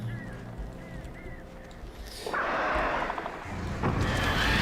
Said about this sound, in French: Au revoir les oiseaux.